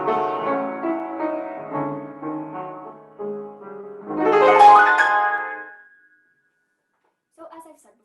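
A live rendition of the dark, brooding opening of a Moszkowski waltz: sustained, slowly shifting notes that swell to a loud peak around the middle, then fade into silence with a brief faint sound near the end.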